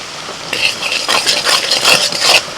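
Butter sizzling in a kadai with turmeric and chili powder, including Kashmiri chili, and salt, stirred with a spoon that scrapes the pan, the frying loud and steady with clustered bursts.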